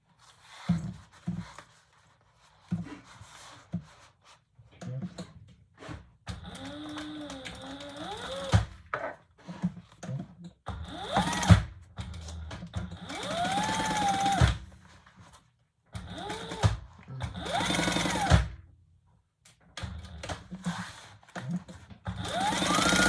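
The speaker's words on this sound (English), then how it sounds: "we're going to stitch all the way around" A sewing machine stitches around a leather retro-style sling bag in several bursts separated by pauses, the motor whirring up and down in pitch, loud and close.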